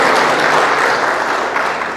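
A church congregation claps together in thanks during a Hindi-language sermon, a dense, steady wash of hand claps filling the whole stretch at close, even loudness.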